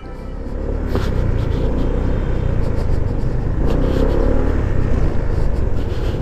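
A QJ Motor ATR160 motorcycle engine runs and revs with light throttle, a loud, continuous low rumble with brief rises in pitch and wind buffeting, as if heard while riding.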